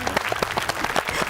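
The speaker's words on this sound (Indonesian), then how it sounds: "Kita kasih tepuk tangannya." A short burst of studio-audience clapping on a family television show, with distinct individual claps in a quick uneven rhythm, close and fairly loud.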